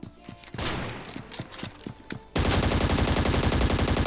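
Gunfire in a battle royale video game: a run of separate sharp shots at moderate level, then a dense, continuous burst of automatic fire that fills the final seconds, with no voices.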